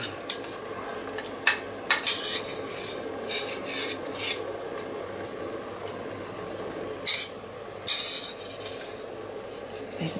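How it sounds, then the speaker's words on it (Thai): Mackerel going into a pot of boiling coconut broth with water lily stems, heard as near clinks of a utensil against the pot, stirring and bubbling scrapes, with sharper metallic taps at intervals and no talk. "ตอนนี้น้ำเดือดแล้วนะคะเราก็ใส่ปลาทูลงไปเลยนะคะ"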